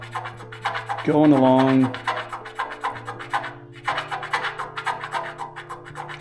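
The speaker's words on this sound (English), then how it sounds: "I've got this little de-nibbing tool and I'm just" A small tungsten carbide de-nibbing tool scrapes a sag in clear coat on a CJ-5 Jeep's corner, giving quick repeated rasping strokes close up while someone talks over it, with a brief hum part way through.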